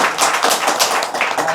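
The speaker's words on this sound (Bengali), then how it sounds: "হাততালি দিই আমরা।" A small group of people claps hands at an event supporting a visually impaired singer's family, a quick, uneven patter of close claps lasting under two seconds with no talk.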